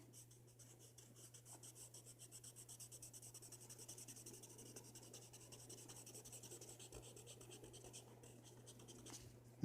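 Rubber eraser rubbing out part of a pencil drawing of a creature's arm on paper, a steady run of quick back-and-forth scrubbing strokes, close and fairly soft, alone without talk.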